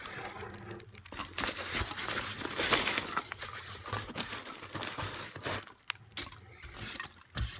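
Tape crinkling, tearing and scraping as a double-boxed, double-taped package is pulled open, a close, busy stretch of irregular rips and rustles with no talk.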